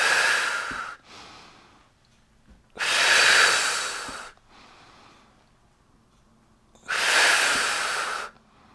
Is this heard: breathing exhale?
yes